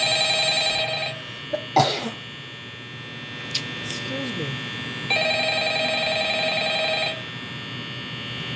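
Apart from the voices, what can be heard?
telephone ringing in the Five Nights at Freddy's video game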